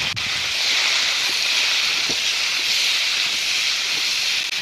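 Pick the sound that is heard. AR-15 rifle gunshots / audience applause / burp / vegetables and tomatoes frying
vegetables and tomatoes frying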